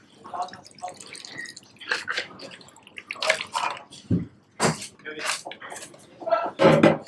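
The Monarch cocktail is double strained into a frozen glass, giving close, uneven drips and splashes of liquid with light clinks of bar tools, and a voice is faintly present between them.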